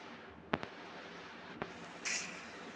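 Gunfire from the mobile game Free Fire during an old-versus-new gun comparison: two sharp shots about a second apart, the first a quick double crack, then a brief bright burst over a steady game-background hiss.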